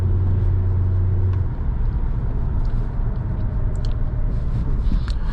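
A 2010 Volkswagen Jetta SEL accelerating as it pulls out into traffic, a steady low engine rumble with road noise from inside the cabin, continuous and fairly loud, no voices.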